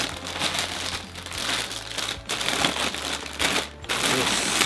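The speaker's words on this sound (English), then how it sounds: "Do apologize if you can't hear me very well over the rustling" Packaging and loose kit parts rustle and crinkle steadily while being packed back into a box, a dense close crackling texture with brief pauses, and a faint low hum underneath.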